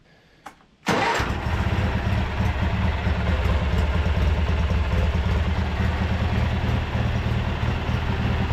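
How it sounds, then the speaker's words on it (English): A vintage Craftsman tractor engine cranks briefly, then catches and runs, settling into a loud, steady, close rumbling idle with no talk. "I am super pumped that we've got this thing running in a matter of like 20-30 minutes"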